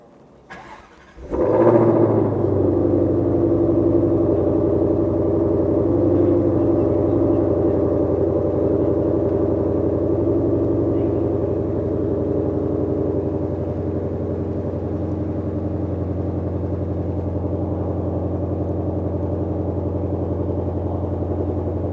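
A blue 2021 Ford Mustang GT500 fires up with a sharp, loud bark, then settles into a deep, steady rumbling idle that holds evenly to the end with no talking.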